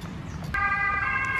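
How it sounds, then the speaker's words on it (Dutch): An ambulance siren starts up abruptly and holds a steady, piercing multi-tone wail, fairly close and loud over faint background noise. "De ambulance komt ook."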